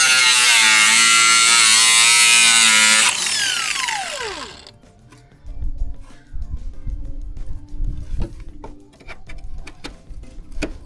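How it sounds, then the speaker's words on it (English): A high-pitched power tool whines loudly as it cuts into the metal pinch weld on a Lexus GX470, then spins down, followed by scattered clanks and scraping handling noises. "if you cut right down this pinch weld where they're two are coming together, it does relieve a little bit of this metal"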